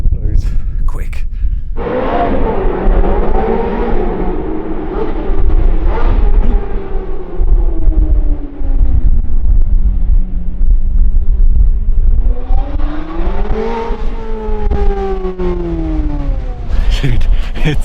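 A Porsche 718 Spyder RS accelerating hard with its wheels spinning: a loud engine tone rises, sags and climbs again through the gears, with a steady rumble beneath and sharp bursts near the start and end.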